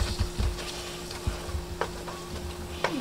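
Meat sizzling and frying in a pan while it is stirred, a steady crackle with occasional scrapes and knocks of the utensil against the pan, close and without talk.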